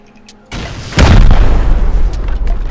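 Rocket explosions from a raid in the survival game Rust burst out in a loud booming blast with a sharp onset and rumbling tail, preceded by a softer thud, with no talk over it.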